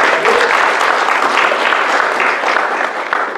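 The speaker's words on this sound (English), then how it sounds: "So please join me in giving a round of applause to all of our supporters." A lecture audience gives a sustained round of applause, dense steady clapping filling the hall for several seconds before tapering slightly, with no voices over it.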